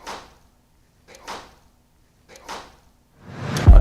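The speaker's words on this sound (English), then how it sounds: "Another knock over there." Knocks inside an old mansion: three soft, isolated raps roughly a second apart in a quiet room, followed by a louder, longer crack-like thud at the end.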